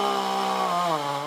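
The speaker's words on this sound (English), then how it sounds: "and so are the chainsaws." A chainsaw cuts into an ancient beech tree on a tree-lined road in Northern Ireland, its engine whining loud and close and shifting pitch as the blade bites, with no talk.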